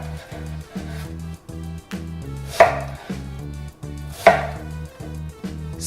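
A knife chops onion into cubes on a cutting board in a steady, even rhythm of close, sharp thuds, with a couple of louder strikes along the way.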